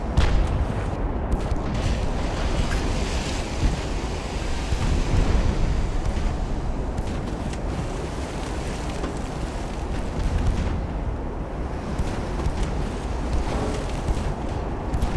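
Naval guns fire a high-explosive salvo from an 1895-era warship in Ultimate Admiral Dreadnoughts, with a heavy rumbling roar of booms and sea-like wash sustained throughout, loud and close.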